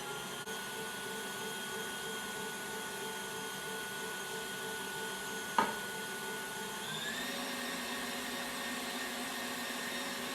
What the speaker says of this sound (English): So I'm going to turn my mixer back on, and I'm going to slowly drizzle this oil.